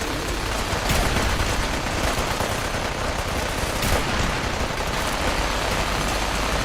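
Sustained gunfire in the Fallout 4 game with the Sim Settlements 2 mod, a dense continuous barrage of shots filling the whole stretch at steady loudness, with no talk.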